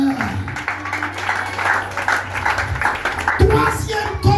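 A church congregation applauds and cheers in a steady, dense wash of clapping and voices, with a few louder bursts toward the end and speech mixed in underneath.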